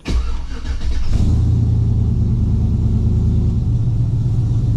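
A Gen 3 V8 in a 2004 GMC Yukon cranks briefly and catches, then settles into a loud, steady, fairly high idle with a deep rumble, close up and with no voices.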